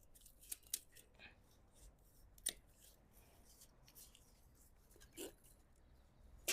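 Secateurs snipping vine cuttings for propagation outdoors in a spring garden, a few faint, sharp clicks scattered over quiet rustling, with soft handling noise between cuts.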